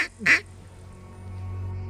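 A hand-blown duck call imitates mallard quacks during a duck hunt, giving two quick nasal quacks at the start before fading into steady low outdoor background noise.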